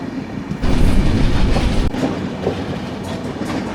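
Carriage of the Trivandrum Veraval Express (16334) rattling along the tracks between Shoranur and Panvel, a loud, close rumbling clatter with rhythmic wheel clicks and jolts heard from inside the train, no voices.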